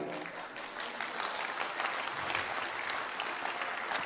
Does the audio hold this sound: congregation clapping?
yes